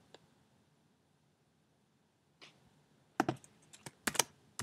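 Scattered keystrokes on a computer keyboard while entering a resume heading, mostly quiet at first, then a quick cluster of clicks toward the end, close and fairly faint.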